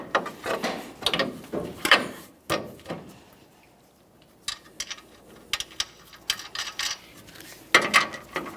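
A ratchet snugs up the tie rod end mounting nut on a 2015-2020 Ford F-150, giving bursts of close mechanical clicking separated by short pauses, with a quiet gap in the middle of the clip.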